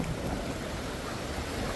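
Sea waves at Station 1 beach in Boracay wash in a steady, unbroken roar, blended with gusting wind noise and no voices.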